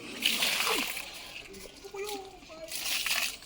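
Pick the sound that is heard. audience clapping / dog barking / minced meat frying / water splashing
water splashing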